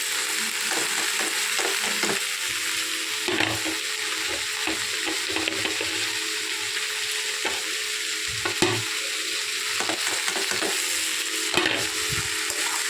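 Pumpkin greens and spices sizzle steadily in a hot pan while a utensil repeatedly scrapes and stirs, the clinks and scrapes recurring throughout.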